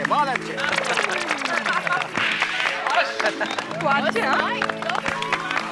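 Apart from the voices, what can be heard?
audience applause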